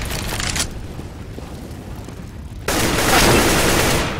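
An incendiary grenade bursts and gunfire erupts in a CS:GO competitive match. Loud shooting opens, drops to a quieter stretch, then a sudden roaring blast of fire swells and holds to the end.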